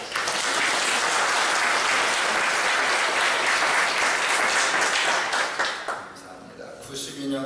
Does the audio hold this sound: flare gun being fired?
no